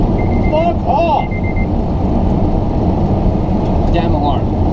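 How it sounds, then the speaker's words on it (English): An alarm gives two bursts of short electronic beeps, one near the start and one near the end, over a loud steady rumble of engine or road noise. "Damn alarm."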